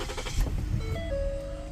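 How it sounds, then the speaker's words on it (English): A Ford Taurus SHO engine cranks and catches, a brief churning start settling into a steady idle hum with a faint tonal whine, close and moderately loud with no talk. "So we're gonna start the vehicle."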